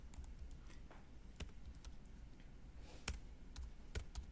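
Sparse, quiet clicks of keystrokes on a computer keyboard, tapped out in irregular bursts with a few sharper key hits, heard alone at low level.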